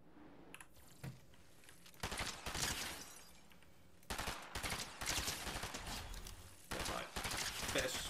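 Shotgun blasts in a video game sensitivity and accuracy test, loud sharp bursts repeating in clusters with brief gaps, no talking.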